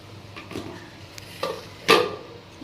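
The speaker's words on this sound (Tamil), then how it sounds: "நல்லா கலக்கிடுங்க" A spoon stirs mushroom gravy thickened with roasted gram in a pan, producing a few soft scrapes and one sharper clink against the metal over a quiet background.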